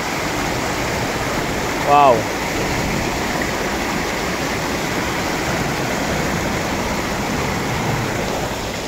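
A stream's strong, fast current rushes in a steady, loud, broadband roar throughout, close by, with a brief voice exclaiming once near the start.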